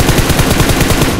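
Rapid bursts of gunfire in PUBG Mobile, a fast regular string of loud close shots filling the whole moment with no talk.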